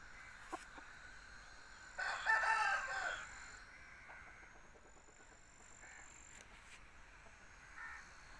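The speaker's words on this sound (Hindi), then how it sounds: "बहुत अच्छा फाइटर मुर्गा है।" Aseel fighting rooster crowing once, a single loud call of about one second that rises above a quiet outdoor background, with faint bird chirps before and after.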